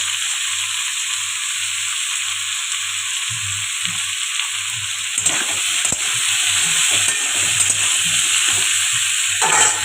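Pumpkin, vegetable stalks and pointed gourd stir-fried together in a pan, producing a steady close hiss of sizzling oil with scraping stirring strokes that grow busier in the second half.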